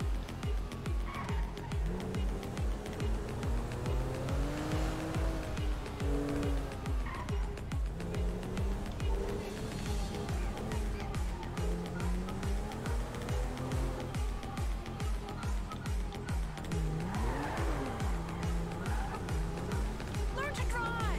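A car in GTA V story mode drives hard with a steady engine roar and repeated tire squeals and skids, with music and voices running underneath throughout.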